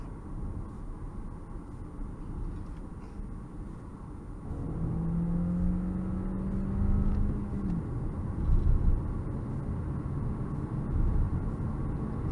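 New car's engine straining in a very tall third gear, a low steady rumble with a rising droning whine partway through, heard from inside the cabin with no talk.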